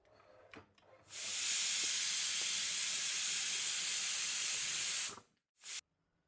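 Pressure cooker on a medium gas flame lets off a loud, sustained steam whistle-hiss for about four seconds, cutting off abruptly, then a short second burst, with quiet kitchen background before.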